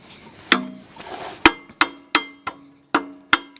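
A hammer bangs on a brake caliper during a caliper change on a camping rig, giving seven sharp metallic strikes at an uneven pace, close and ringing, with a scraping shuffle between the first blows.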